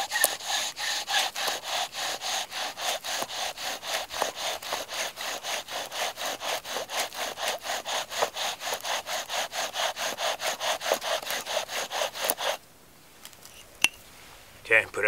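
Rapid back-and-forth wooden rubbing and scraping of a bow drill spindle making fire, in a steady rhythm, close and continuous for about twelve seconds, then stopping abruptly into quiet.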